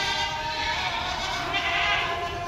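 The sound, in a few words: goats bleating at Deonar goat market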